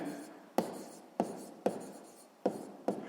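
A pen writing on paper during a sixth-grade maths exercise, with five sharp scratchy strokes at an even, steady pace, close and clear.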